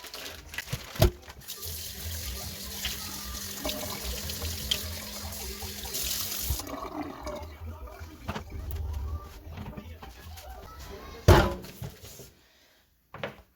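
Tap water runs in a kitchen sink while Blackstone griddle trays are rinsed: a soft steady splash and trickle with a few sharp knocks and clatters of the trays, fairly quiet and close, ending abruptly.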